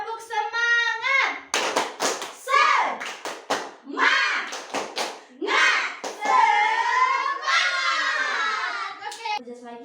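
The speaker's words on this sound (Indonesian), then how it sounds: "Kita tepuk semangat dulu ya" Schoolchildren chant a rhythmic classroom cheer aloud, punctuating it with short bursts of group clapping between the shouted phrases, the voices dominating and the claps landing in quick clusters.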